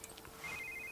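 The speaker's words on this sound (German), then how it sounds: "Schon wieder Telefon." A telephone rings in The Sims 3, a faint electronic ringtone pulsing in short repeated tones over a soft background hum, with no talking.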